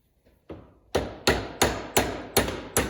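A hammer drives a pin out of a hydraulic valve with about seven sharp, ringing metal strikes at a steady rhythm, close and loud, the first blows lighter before the hits grow firm.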